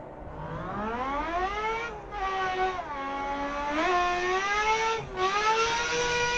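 Veilside car's engine in a racing video game replay revs up and down through several sweeping rising and falling pitch climbs, loud and continuous with brief dips between gear changes, no talking.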